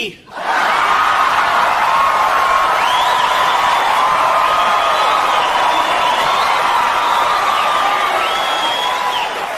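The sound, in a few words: audience clapping and laughing at stand-up comedy show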